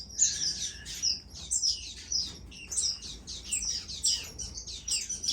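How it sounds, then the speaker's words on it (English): A canary sings in an aviary, repeating bright, rapid trilling phrases close by over a low hum of room background. "There's one of my canaries."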